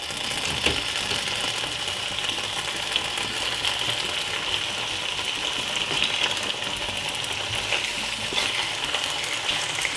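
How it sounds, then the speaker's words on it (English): Smoked bacon frying in a pan over medium heat, a steady dense sizzle with crackling pops running continuously and close, no voices. "So as I go ahead, I'm going to pop in my bacon like this."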